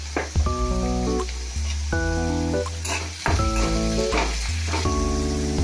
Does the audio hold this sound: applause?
no